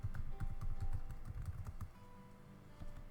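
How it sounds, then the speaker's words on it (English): Rapid typing on a computer keyboard, a dense run of close, soft key clicks that slows and thins out toward the end, with no talking. "I would just type infographic"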